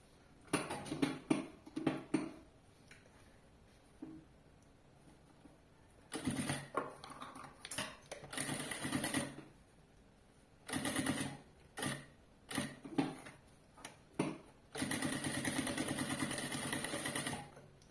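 A sewing machine stitches along the side of a backpack in several separate runs, each a fast, even mechanical whirr of needle strokes that starts and stops abruptly, with short quiet pauses between bursts and no talk.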